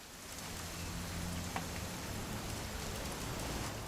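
Continuous rainfall from What Remains of Edith Finch, a broad soft wash of drops hitting the ground and nearby surfaces, even and unbroken throughout with a faint low rumble beneath and no talking.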